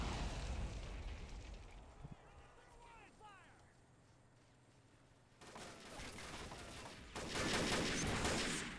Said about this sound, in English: this Cobra is doing a little more strafing here